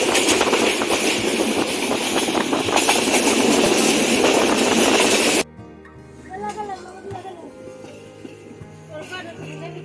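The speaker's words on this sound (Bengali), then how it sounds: "পারাবত এক্সপ্রেস ট্রেনটি এইমাত্র কুলাউড়া রেল স্টেশনে এসে থামতেছে" The Parabat Express passenger train rumbles and clatters loudly close by for several seconds as it pulls into Kulaura railway station, Bangladesh. Then the sound cuts abruptly to a quieter scene with scattered voices and tones.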